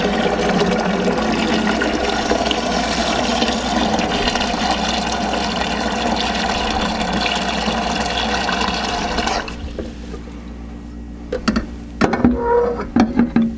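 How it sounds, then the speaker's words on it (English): Water pours loudly and steadily into a brewing container for a home-brewed pale ale. The heavy rushing fill runs continuously, then cuts off, leaving a few faint clunks and splashes. "Get some more water here, and I'll show you the first run at least."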